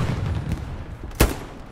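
A single sharp gunshot rings out in a video game firefight, one loud broadband crack standing out over a steady background of game noise.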